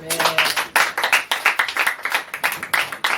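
A church congregation clapping loudly in a steady rhythmic beat, about four claps per second, close and sustained, with voices mixed in among the clapping.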